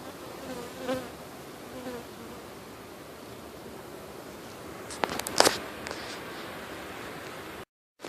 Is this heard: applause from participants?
no